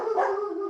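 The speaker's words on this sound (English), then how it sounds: "My dogs are going crazy" A dog lets out a sustained, howling bark-yip, loud and close, heard alone against a quiet background.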